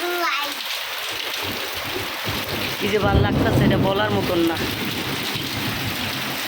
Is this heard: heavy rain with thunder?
yes